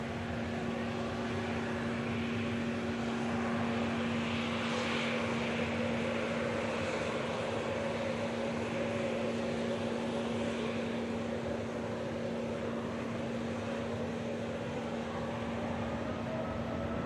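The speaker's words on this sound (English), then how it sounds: "Dreamliner now rolling on 2-3 left" A Boeing 787 Dreamliner rolls on the runway at Manchester Airport, heard as a steady distant engine rumble with a constant droning hum and a faint swell midway, fairly quiet and continuous.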